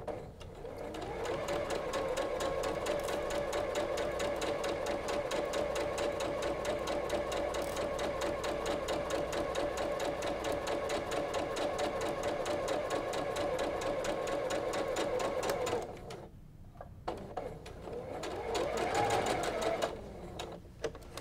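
Sewing machine chain piecing quilt fabric for a half square triangle block, running steadily and close for about fifteen seconds, pausing briefly, then stitching again in a short final burst.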